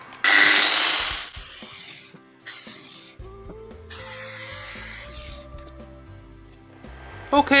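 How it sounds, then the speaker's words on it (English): An angle grinder with a grinding or cutting disc eats into a transformer winding, giving loud whining bursts that start, cut off and restart, with a lower motor hum and someone speaking between passes. "I just have to keep eating away at it with a grinding disc or cutting disc."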